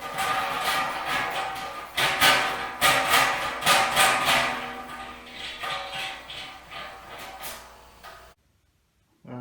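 A knockout hole punch is wound down with a wrench on a stainless steel SS Brewtech brewing kettle, giving a steady run of close, rhythmic ratcheting clicks for about eight seconds before it stops abruptly.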